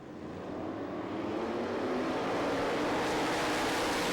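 Sprint cars roar as the field takes the green flag for the C-Main at the Knoxville Nationals dirt track, a dense engine wash swelling louder and brighter as the pack passes, with no voices.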